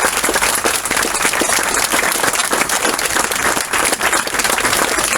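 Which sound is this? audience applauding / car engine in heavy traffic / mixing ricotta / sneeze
audience applauding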